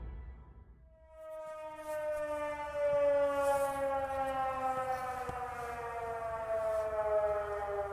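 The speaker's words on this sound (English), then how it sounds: "The silence is broken by the sound of the alarm siren." A high tide alarm siren sounds in Venice, starting after a brief quiet and holding a loud, steady wailing tone with layered harmonics that swells slightly and carries across the city, with no voices.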